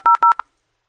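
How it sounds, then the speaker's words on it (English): Dial-up modem dialing, a quick run of four or five loud touch-tone beeps close up, then silence. "Next is dial-up modem."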